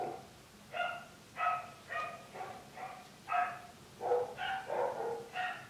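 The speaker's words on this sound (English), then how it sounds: "I apologize for these dogs" Several dogs bark and yip in a quick, uneven series of moderately loud barks, slightly distant, over a quiet indoor background.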